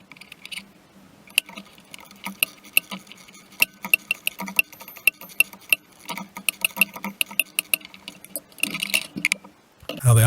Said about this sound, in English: Here I'm using a smaller ratchet to continue spinning that alternator mounting bolt out.